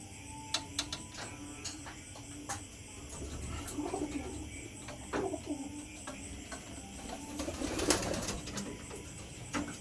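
Pigeons cooing softly in a loft, with a newly acquired bird among them; low, repeated coos and scattered ticks and rustles sit under steady background noise, with no talking.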